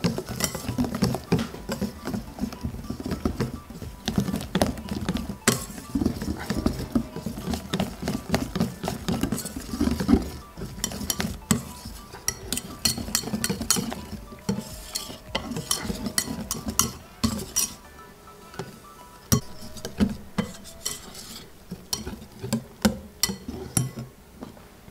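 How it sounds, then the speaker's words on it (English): Cake batter for a chocolate cake being whisked in a bowl, a long run of quick, fairly quiet clinking and scraping strokes with brief pauses, no voices. "Whisk this together."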